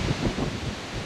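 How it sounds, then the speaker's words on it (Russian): Strong October autumn wind gusting at a flat-feeder fishing spot, buffeting the microphone with a steady close roar and rustle that swells and eases slightly throughout, with no talking. "Ветруган сумасшедший. Сумасшедший ветруган."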